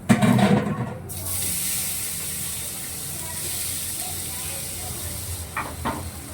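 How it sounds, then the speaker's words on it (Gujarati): Spices are tempered in hot oil for handvo, giving a loud burst of sizzle at the start that settles into a steady hiss with a few clinks near the end; brief talk is heard at the very beginning. "વઘાર કરી નાખીએ."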